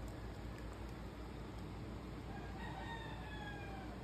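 A rooster crows in the distance, a faint rising cock-a-doodle-doo over quiet background noise, heard partway through a rural outdoor setting.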